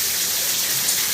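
Heavy rain falls steadily with a dense, even hiss and patter during a rainy spell when water is getting into a room, sounding continuous and close with no talking.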